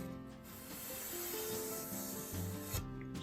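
Soft, continuous rubbing of a clean towel wiping the edges of a jointed acoustic guitar soundboard, close and steady without clear strokes, with faint background hum.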